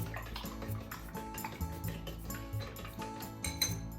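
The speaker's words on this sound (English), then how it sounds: "Give it a mix." Light clinks and taps of a utensil against a bowl while mixing an egg mixture, quick irregular strokes with small wet sounds, close and fairly quiet.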